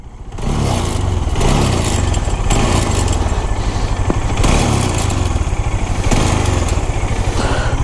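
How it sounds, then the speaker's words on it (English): A Bajaj Dominar motorcycle stuck on a highway runs with a faulty engine, giving a loud, close, steady rattling drone with a rough, uneven beat that keeps on throughout. "I am stuck here with my bike making a weird noise which goes like this, if you can hear"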